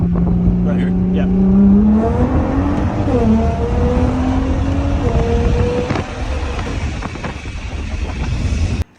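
A Nissan R35 GT-R pulls hard with its engine note climbing, dipping at gear shifts, then climbing again, loud and close from inside the car. Cabin rumble and wind fill the rest, and the engine eases off near the end.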